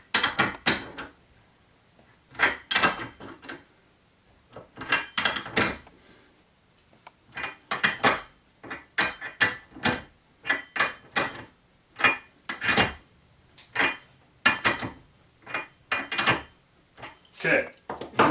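A steel barrel wrench tightens a rifle barrel in repeated bursts of metallic clanks, ratcheting and scraping, close and sharp with short pauses between strokes.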